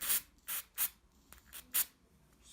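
A spray can hisses in four or five short, sharp bursts, close and loud, each spurt separated by brief pauses, while a homemade lapel microphone is being finished.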